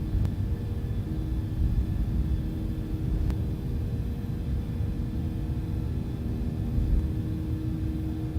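Boeing 757 jet engines at takeoff thrust during the takeoff roll roar as a steady, heavy low rumble heard from inside the cockpit, constant and unbroken with faint tonal whine above it.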